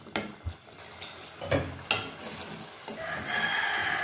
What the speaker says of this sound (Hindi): अभी इसको भून लेते हैं।